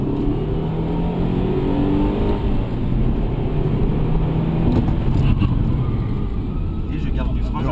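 A car laps a track with a sustained, loud engine roar and road noise as it drives and brakes, while someone talks over it throughout.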